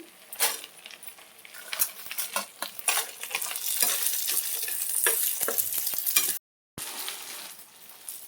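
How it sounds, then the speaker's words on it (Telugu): Urad dal, coriander seeds, fenugreek and dried red chillies dry-roasting in a pan on low heat for gongura pickle, with steady scraping and stirring, light rattling of seeds against metal and a brief pause near the end. "సిమ్లో పెట్టుకొని వేయించుకోవాలి, దూరగా వేయించుకోవాలి."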